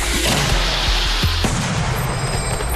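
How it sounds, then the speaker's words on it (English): Hand-lit fireworks fired at a firing range, a run of sharp loud bangs and cracks in quick irregular succession over a continuous rumbling background, with a crackling hiss toward the end. "It's always good to see fireworks, especially if you get to hand light them and get a little bit closer."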